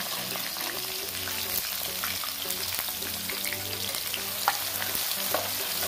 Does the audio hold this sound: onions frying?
yes